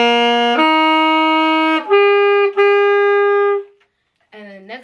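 Saxophone notes from Amazing Grace, a few sustained, clean tones in sequence with brief breaks between them, played close and loud, trailing off before one last shorter note.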